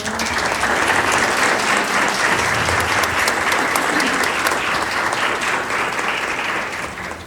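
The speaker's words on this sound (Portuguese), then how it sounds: "Pode aplaudir o Senhor." A church congregation applauding at a Christmas cantata, dense sustained clapping that fills the room at full loudness for the whole stretch, easing slightly at the end; no speech.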